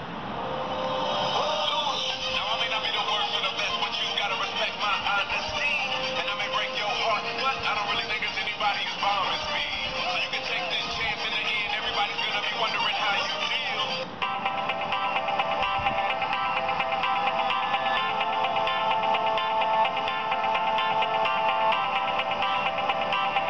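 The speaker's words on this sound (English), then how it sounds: "Let's play a song to check the audio quality." A song plays through the rear speaker of an Asus Zenfone 4 A400CG phone, loud and continuous with bright, tinny tone, changing section partway through, with no talking over it.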